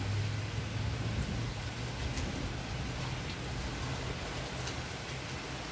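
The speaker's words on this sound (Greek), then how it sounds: "Κανονική βροχή μετά από το μπουρίνι." Steady rain falls after a thunderstorm in Athens, a continuous even hiss with a constant low hum underneath, no voices and no thunder claps.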